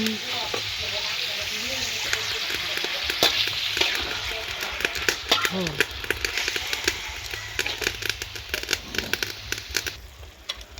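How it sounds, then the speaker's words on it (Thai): Pork stir-fried with cabbage sizzles steadily in a hot pan, with scraping stirs and clatters of the utensil throughout; a voice talks over the cooking. "เดี๋ยวเรามาขัวหมูพี่น้องขัวใส่กะหล่ำ"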